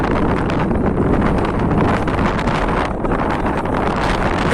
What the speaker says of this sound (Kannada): ಗಾಳಿ ಬರ್ತಾ ಇದೆ, ವಾಯ್ಸ್ ಕೇಳ್ತದೆ ಗೊತ್ತಿಲ್ಲ.